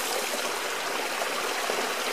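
Water pours steadily from a small waterfall inside an underground sewer tunnel, a constant close rushing splash with no pauses.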